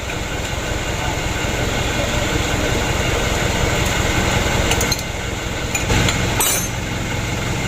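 An engine runs steadily and loudly after its fuel line was bled and the injector nozzle hose tightened, giving a continuous rough rumble with a few brief metallic clinks near the end.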